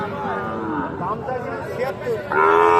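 Cattle moo repeatedly at a busy livestock market selling Sahiwal bulls and calves, the drawn-out calls close and loud, with a louder bellow near the end over a background of crowd chatter and nearby talking.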